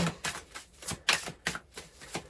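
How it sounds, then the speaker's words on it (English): Tarot cards being shuffled in quick bursts, a crisp riffling flutter repeating several times, close and fairly quiet. "the way the cards are shuffling"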